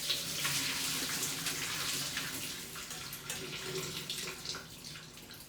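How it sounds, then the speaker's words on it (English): Hot water is poured off cooked red onions into a sink, giving a steady rushing splash that runs from start to finish at moderate volume with no talk over it. "I'm gonna take our onions and pour the water off them."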